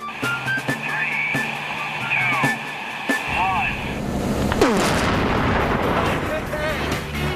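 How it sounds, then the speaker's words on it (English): A deep, heavy quarry blast booms about 1.5 miles away and its roar rolls on for several seconds, following sharp cracks and a loud, noisy outdoor background. "As a first quarry blast, it was a steely success."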